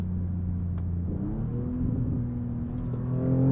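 A 2023 Audi S6 in manual paddle-shift mode pulls hard toward redline, its engine rumble rising steadily in pitch and growing louder over a few seconds, heard close from inside the cabin with no talking.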